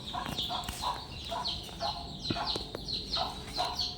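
Chickens on a village poultry farm cluck in short repeated bursts, several birds calling near and far over light background noise, with no voices in the clip.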